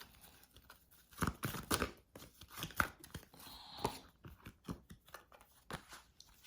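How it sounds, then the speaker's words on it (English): Quiet papery riffling and snapping in short irregular bursts, like tarot cards being shuffled and tapped close by, with no talking. "I know I shouldn't be shuffling like that"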